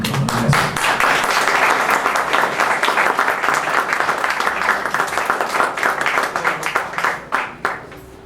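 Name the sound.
audience applause for a guest speaker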